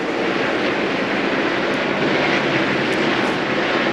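NASCAR stock cars, including the 99 car, race at speed in the 2001 Pennzoil Freedom 400, producing a loud, steady broadband engine roar that holds unbroken for the whole stretch.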